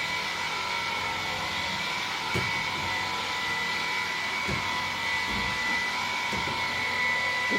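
A Xiaomi Mi G10 cordless vacuum cleaner runs continuously with a steady high-pitched motor whine and airy suction hiss, punctuated by a few soft thumps as it moves over the floor.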